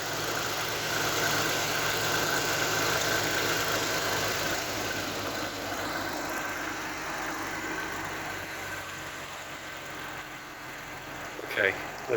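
An abandoned MK3 Toyota Supra Turbo engine idles in a steady, low, even rumble that runs on throughout, with no talk over it.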